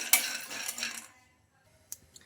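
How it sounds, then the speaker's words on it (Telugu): Peanuts tipped into a metal kadai for roasting, a close rattling clatter of nuts hitting the pan that fades within a second, followed by two faint stray clinks. "కడాయి అయితే పెట్టేసుకొని అందులోకి పల్లీలు అయితే వేసుకోవాలి"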